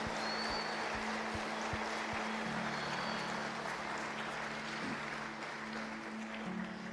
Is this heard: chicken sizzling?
no